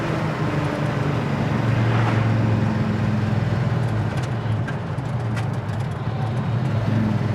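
A 1969 Chevelle SS drives along in third gear, its engine a steady low rumble heard from inside the car with continuous road noise, holding an even level throughout.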